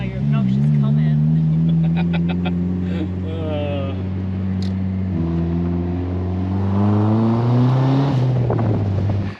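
Mazda Miata engine drones steadily from inside the cabin as the car drives and accelerates, with harmonic rising pitch sweeps toward the end and talk from occupants over it.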